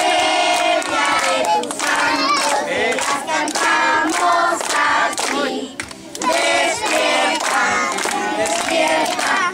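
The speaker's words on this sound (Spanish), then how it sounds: "El aplauso para Ben 10." Guests at a child's Ben 10 themed third birthday party clap together, loud rhythmic applause mixed with cheering voices, briefly dipping before resuming.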